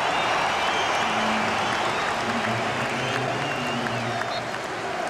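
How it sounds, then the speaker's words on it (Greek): A stadium crowd at a Liverpool versus Leicester League Cup football match applauds a substitute coming on, a dense continuous wash of clapping and crowd noise with a commentator speaking over it. "και το χειροκρότημα"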